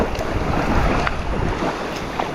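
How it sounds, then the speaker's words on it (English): A canoe is paddled upstream against a remote river's current, with broadband water rush and splashing, a few brief paddle strokes, and wind buffeting close to the microphone. "Paddling upstream with the flow of the river is a massive task"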